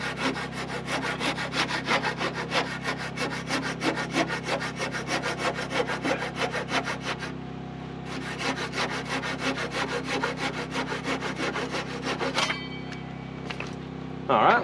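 A handsaw trims pallet wood for a wall of a tiny pallet house in the woods, with fast, steady back-and-forth rasping strokes close up, one brief pause midway.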